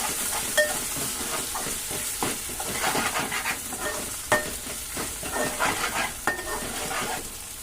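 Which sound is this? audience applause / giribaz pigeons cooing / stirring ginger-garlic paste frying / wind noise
stirring ginger-garlic paste frying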